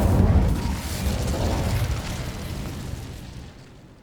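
An Incendio fire spell is cast in Hogwarts Legacy, giving a loud, rumbling burst of flame that roars at once and then slowly fades out over a few seconds.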